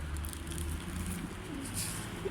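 Pigeons, including an Arabian hen, coo softly during feeding, low murmuring calls under faint background chatter and rustling, close and steady.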